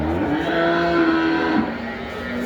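A cow lows at a rural cattle market in Dabwali, Punjab, one long steady moo carried for about a second and a half over a constant background of market bustle, fairly close and loud with no speech.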